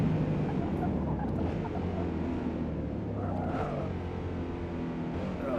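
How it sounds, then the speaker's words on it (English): A heavy Ford race car engine drones continuously in Forza Motorsport, a low, dense rumble with subtle revving swells, held at moderate volume throughout. "I might turn the engine sounds down just a smidge."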